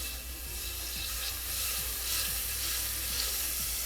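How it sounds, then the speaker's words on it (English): Butter melting in a hot pan on a stovetop, making a steady, close, continuous sizzle with faint crackling throughout. "I'm going to go ahead and add a little bit of butter to my pan here"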